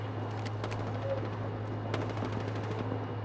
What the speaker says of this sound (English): People shooting from up top.